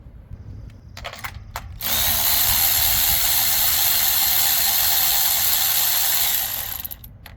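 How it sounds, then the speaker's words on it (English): A ratchet loosening a spark plug on a Polaris Slingshot: a few clicks up front, then a loud, fast continuous ratcheting buzz for several seconds, close and with no talk, ending in scattered clicks. "pulls the whole spark plug out"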